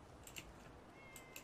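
A cat in the Fallout 4 game world meows a few times, two short faint cries early and two more near the end, quiet and somewhat distant over a low ambient hum.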